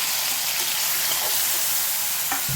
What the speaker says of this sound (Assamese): মই এতিয়া আলু পিটিকাৰ কাৰণে মানে এইখিনি ভাজি লওঁ।